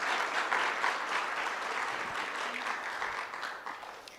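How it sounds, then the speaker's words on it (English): A crowd applauding guide dog puppy raisers at a guide dog graduation ceremony, a dense, sustained clapping from many hands that holds steady and eases slightly toward the end. "So let's give a round of applause for those raisers."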